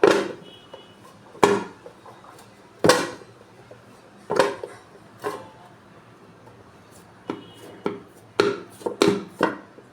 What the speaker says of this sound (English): And just knead it a bit now.